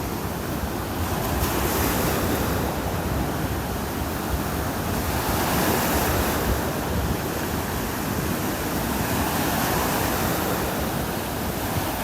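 Steady wind and rolling ocean surf fill a cloudy morning beach in North Naples, Florida, a continuous broadband roar with gentle swells in loudness and no voices.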